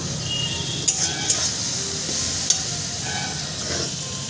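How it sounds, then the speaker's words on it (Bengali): Spices with a little water and sugar are stir-fried in a pan for a fig curry, giving a continuous sizzle and hiss broken by a few sharp scrapes and clinks of a spoon against the pan. "সমস্ত মশলা আমি সুন্দর করে কষিয়ে নেব।"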